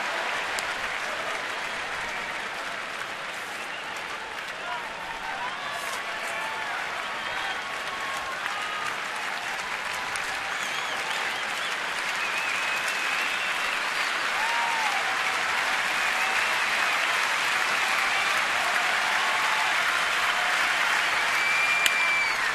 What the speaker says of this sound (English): Clapping in unison, this big crowd.